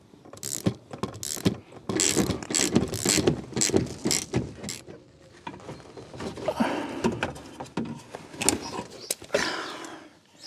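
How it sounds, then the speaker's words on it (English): Ratchet driving an E12 star socket on extension bars to undo a bolt holding the horn of a Vauxhall Corsa D, giving close, repeated mechanical clicking and clattering bursts with short pauses between them. "to undo that bolt, we need an E12 socket. That's one that looks like a star, a couple of extension bars, and of course, a trusty old ratchet"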